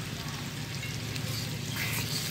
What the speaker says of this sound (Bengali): মশলা কষে যখন তেল উঠে আসবে তখন আমি এর মধ্যে দিয়ে দিলাম টক দই